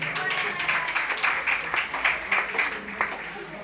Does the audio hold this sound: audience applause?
yes